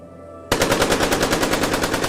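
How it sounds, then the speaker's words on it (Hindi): Sustained automatic gunfire sound effect in a horror story, a rapid unbroken burst of loud shots that starts abruptly after a half-second of quiet and continues steadily to the end. "हमने बिना कुछ सोचे समझे उस क्रिएचर पर नॉन स्टॉप फायरिंग करना स्टार्ट कर दिया"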